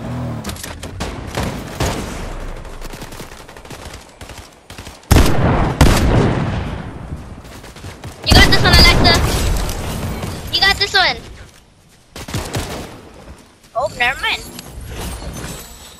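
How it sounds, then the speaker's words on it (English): Fortnite gunfire in loud bursts of rapid shots and booming blasts, arriving in waves with pauses between them, while players talk and laugh over the action. "They're shooting at us from where?"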